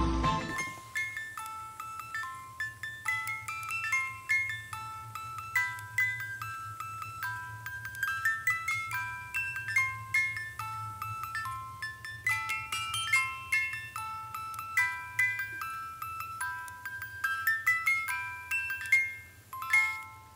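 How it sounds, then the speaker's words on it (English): The music box complication of a Jacob & Co Opera watch plays a movie melody as a delicate series of bright plucked metallic notes, clear and close, over a faint low mechanical hum. "not only does it play the music from the movie, let's listen to it for a few seconds"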